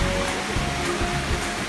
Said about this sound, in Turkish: Ama dere burada var.